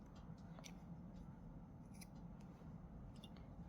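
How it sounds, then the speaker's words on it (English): Scissors snip through crochet yarn in a few quick, quiet cuts, short crisp clicks over a low steady room hum with no talking. "Instead we'll cut the yarn"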